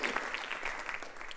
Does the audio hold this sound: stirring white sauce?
no